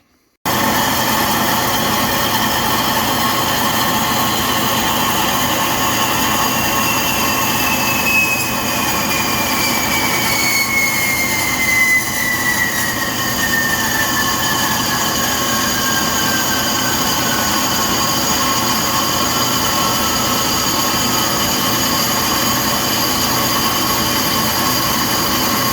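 A power saw on a homestead runs steadily through a cut for about twenty-five seconds, loud and continuous with a whining tone that shifts partway through, and no one talks over it.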